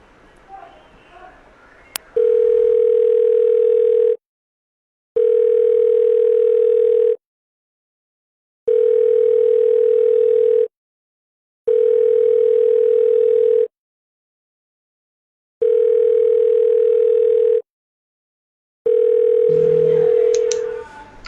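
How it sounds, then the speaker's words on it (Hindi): A telephone ringback tone plays while a call is placed: a steady loud tone repeats about six times in roughly two-second bursts with short silent gaps, and faint noise sits before it. "so let's call doctor Liam"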